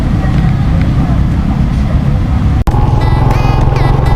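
A motorcycle rides along an expressway in Camarines Sur, its steady engine drone and road rush loud and close throughout, with one brief dropout partway through before the noise resumes.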